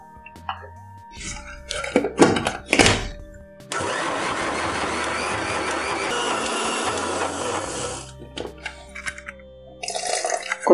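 A wet grinder churns idli and dosa batter with a steady, dense mechanical whirring that runs for several seconds, framed by shorter clattering and knocking sounds before and after.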